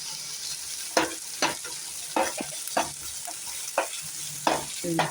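Chopped green chillies and finely cut beans sizzling in a pan for masala dosa filling, with a steady frying hiss broken by repeated sharp stirring scrapes at an uneven rhythm, close and clear.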